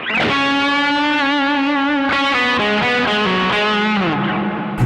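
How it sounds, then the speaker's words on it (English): Electric guitar through a Caline Ragnarok delay and reverb pedal plays a few sustained, bending notes that bloom into a wide reverb wash, loud and close with a lingering tail, and nobody speaks. "the pedal I was using for delay and reverb here is the Caline Ragnarok"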